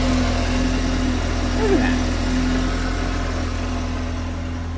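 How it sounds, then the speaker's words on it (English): A 2024 Kawasaki Ridge UTV sits idling with a steady, loud low engine drone and a faint whine, while someone briefly speaks over it. "just so we don't have that engine background noise"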